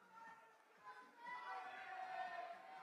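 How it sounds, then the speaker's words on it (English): Crowd noise rising at a bouldering competition final as a climber attempts a boulder, a broad murmur swelling into sustained cheering, with a commentator talking over it. "And the crowd is cheering for Liz."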